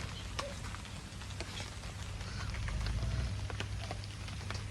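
Steady rain pattering on surfaces outdoors, a dense even hiss with scattered drop taps that swells slightly midway, heard without any talk.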